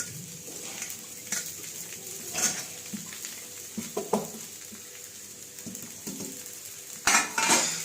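Potatoes and peanuts tossed in a pan scrape and clink under a spoon, with intermittent metallic knocks and stirring strokes over a faint background sizzle, growing louder toward the end.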